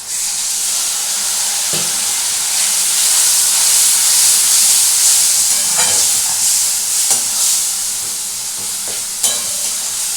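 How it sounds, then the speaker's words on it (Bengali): Kashmiri chili powder masala sizzles loudly in a pan as a little water is added and stirred for a mocha kofta curry, with a steady steamy hiss and occasional scraping stirs. "ব্যাস এটা দিয়ে এখন আমি একটু কষবো। একটু দিয়ে দিচ্ছি সামান্য জল।"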